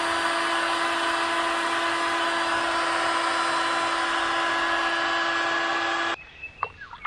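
A heat gun of the paint-stripping kind, used to soften PVC pipe, blows with a loud, steady whining roar close by, then switches off abruptly near the end, leaving a few faint handling clicks.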